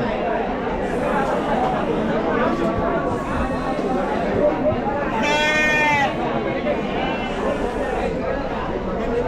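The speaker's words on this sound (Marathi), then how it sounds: "भरपूर मेंढ्या आहेत त्या बाजारात." Sheep bleating at a large sheep and goat market, with several loud, wavering calls rising out of a steady crowd murmur while people talk nearby.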